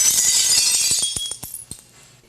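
Glass in a garage door window shatters loudly, a bright crash followed by scattered tinkling fragments landing and settling, fading out within a couple of seconds, no voices.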